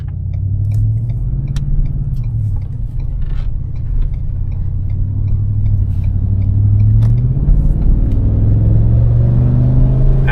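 A Ford 7.3L Godzilla V8 pickup truck with an open exhaust cutout rumbles loud and deep while driving, its low engine drone rising and falling through gentle throttle changes, with no one talking.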